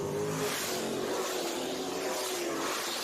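A race car engine howls around a dirt track at Southern Raceway, a steady distant whine of high revs holding under crowd and track ambience with no voices.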